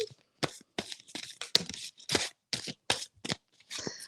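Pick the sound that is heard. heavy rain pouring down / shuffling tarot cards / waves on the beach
shuffling tarot cards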